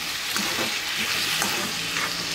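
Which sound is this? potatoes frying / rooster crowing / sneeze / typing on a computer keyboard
potatoes frying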